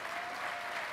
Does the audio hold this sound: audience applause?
yes